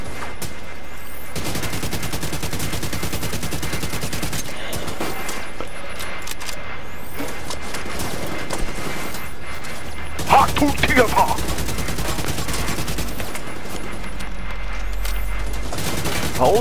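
Machine gun fire in the shooter game The Division 2, with sustained rattling bursts and scattered gunshots mixed with game effects, fairly loud and close, rising into a sharper volley partway through.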